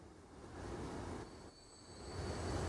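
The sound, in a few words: trains running on rails in video game Transport Fever 2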